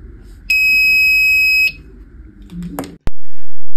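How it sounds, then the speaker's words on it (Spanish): A homemade shadow detector circuit's buzzer sounds a steady, piercing electronic tone for about a second, then cuts off, followed by clicks and a short low rumble before another loud burst begins. "este último encendiendo el buzzer y haciendo funcionar la señal de alarma"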